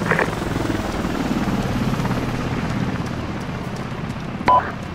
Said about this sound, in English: I was just expecting the helicopter to hit the castle right now.